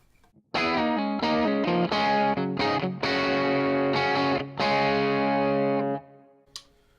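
An electric guitar, a John Page Classic, played on the bridge pickup with volume and tone full up, a bright, distorted tone, a few chords and short riffs ringing out loud and close, then fading to quiet.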